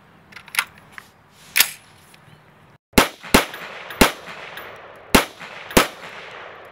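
Ruger SR-556 rifle firing 5.56 ammunition at an outdoor range: sharp, loud single shots spaced out irregularly, about seven reports with brief echoing decay and no talking.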